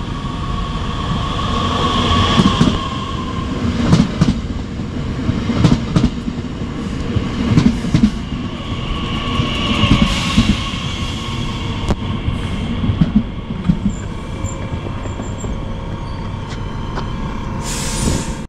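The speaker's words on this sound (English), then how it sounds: "now we can take a look at the arrival of my train here at this station" A SWEG-operated ex-ÖBB Talent 3 train rumbles and clatters as it pulls into a station, with rail noise, squealing brakes and a hiss of air near the end.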